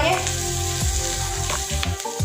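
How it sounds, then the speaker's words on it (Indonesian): Sausages and nuggets fry in hot oil for a Chinese-style macaroni dish, giving a loud, continuous sizzle and crackle with occasional stirring knocks and a faint background hum. "Sosis nugget goreng"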